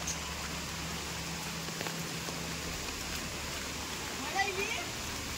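A forest waterfall at Gavrai in Sindhudurg, a dense steady rushing roar of falling water filling the whole clip at an even level, with faint birdsong appearing briefly near the end.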